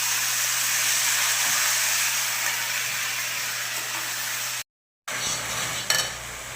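Ginger, garlic, green chilli and pepper paste frying with browned onions in a pan, a constant loud hiss of sizzling oil with a brief cut to silence near the end before the sizzle resumes, no voices.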